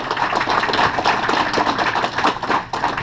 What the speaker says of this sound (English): A round of applause for Torin.